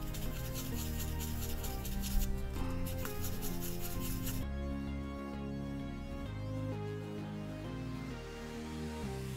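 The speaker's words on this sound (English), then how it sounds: "Now with a 2000 grit sandpaper, I'm trying to remove the excess." 3D-printed resin keycaps being sanded with 2000-grit sandpaper, giving a close, continuous rhythmic rubbing and rasping that keeps on without pause.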